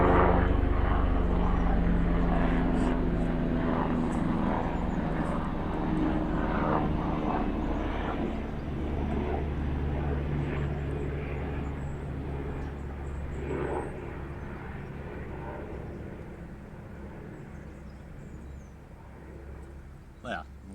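Airplane engine drones steadily at fairly close range, a broad rumbling roar that slowly fades over the clip, with a person talking over it.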